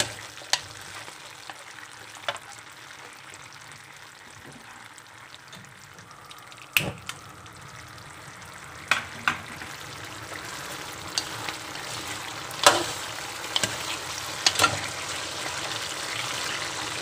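Pork ribs simmering with a honey sauce in a pan over low heat, giving a steady soft sizzle and bubbling with occasional sharp clicks of stirring, fairly quiet and continuous.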